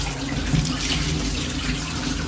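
Water runs steadily from a hose pipe while a glass enclosure is being cleaned, a continuous close splashing hiss with a low rumble beneath it and no talking.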